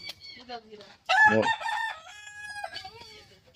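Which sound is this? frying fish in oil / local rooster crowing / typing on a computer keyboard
local rooster crowing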